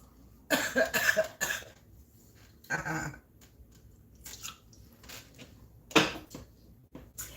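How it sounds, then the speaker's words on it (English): Throaty coughs and throat-clearing bursts come in a few separate rough clusters over faint background noise, close by, with no talking. "Let me clear my throat."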